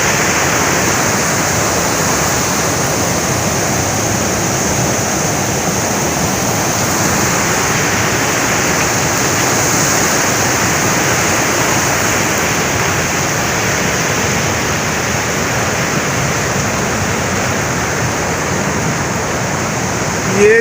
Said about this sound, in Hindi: ये दरिया का शोर